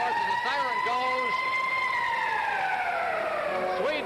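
Ice hockey arena siren sounding to end the second period in a 1976 Canada Cup game between Sweden and the Soviet Union, a long loud wail that slowly falls in pitch, heard under a play-by-play commentator's voice and crowd noise.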